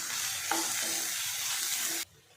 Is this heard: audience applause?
no